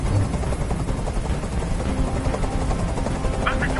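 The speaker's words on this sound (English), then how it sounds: "Tell that helicopter to get out of here!" A hovering helicopter in the video game Detroit: Become Human makes a loud, continuous rotor drone that fills the whole stretch without a break.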